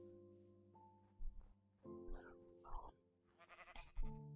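Sheep in the Minecraft video game bleat several times in short, wavering calls over a faint synthesized musical backdrop, each bleat fairly close and clear.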